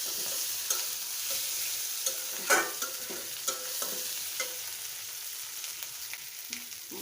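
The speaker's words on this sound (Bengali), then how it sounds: "মশলাটা কষানো হয়ে গেছে" Dried taki fish and a spice paste of ginger, garlic and cumin sautéing in a pan, with a steady close frying hiss broken by repeated scraping stir strokes throughout.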